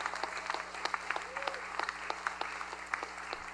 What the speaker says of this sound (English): So round of applause for the people who have made this happen time and time again.